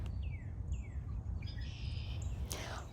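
Red-winged blackbirds sing in the open countryside at Middle Creek in Lancaster County, Pennsylvania, on a spring morning. Several short, rising and falling calls repeat over a steady low rumble of wind or distant traffic.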